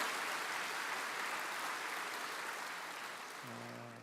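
A church congregation applauds during a sermon, a broad, soft wash of clapping that fades toward the end as a low voice begins.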